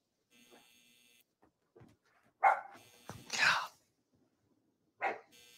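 A dog lets out a few short, sharp barks close by, separated by quiet pauses, with faint soft sounds between them.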